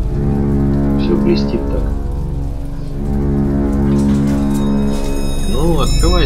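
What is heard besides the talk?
rain in video game Bioshock Infinite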